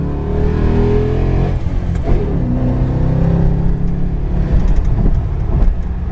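A 2007 Ford Mustang on 20-inch wheels driving and accelerating, its engine note rising in pitch through revs, dipping briefly and then climbing again, loud and close from start to finish.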